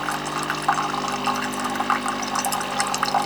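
A Philips Series 4300 LatteGo fully automatic espresso machine pumps water through its system in a steady, close whooshing rush with a constant low motor hum and small gurgles, no talk.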